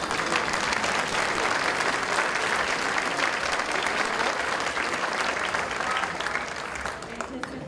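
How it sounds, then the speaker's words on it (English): Sustained applause from a dinner audience honoring American Legion Post 165 at a Founders Day dinner, a dense steady wash of many hands clapping that eases slightly near the end. "Let's give the American Legion Post 165 a round of applause."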